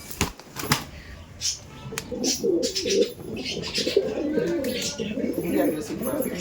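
Kaldom pigeons coo repeatedly close by, low throaty burbling calls, with some wing flaps and handling noises early on.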